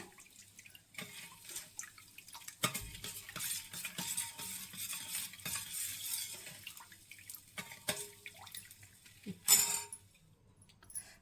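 Organic jaggery is stirred into water in a kitchen, giving soft, faint swishing and watery clinks with a few sharper taps.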